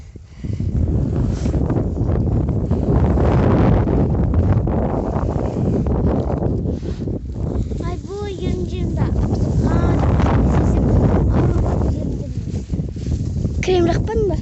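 Strong outdoor wind buffets the microphone in a continuous loud rumble during travel on a road trip, with people talking underneath the roar.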